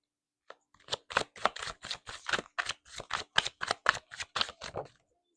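Tarot cards being shuffled by hand, a steady series of about fifteen crisp riffling bursts, close and clear with no talk.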